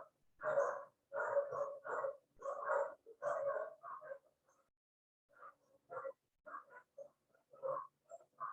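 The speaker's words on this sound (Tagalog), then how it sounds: "Saan di kayo nababother dun sa tahol ng aso?" A dog barks in a fast run of sharp, faint barks, pausing briefly before a scattered second burst, heard from some distance in a quiet setting.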